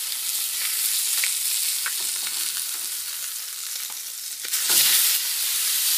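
A salmon fillet sizzles loudly in a hot pan just after being flipped, a continuous crackling hiss with small pops and a brief surge of louder frying near the end.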